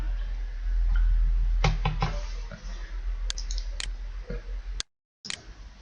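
Computer mouse clicks while entering data into a database program, a few sharp isolated clicks spaced irregularly over a low background hum, close to the microphone.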